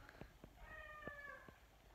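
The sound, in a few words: cat squeaking in the background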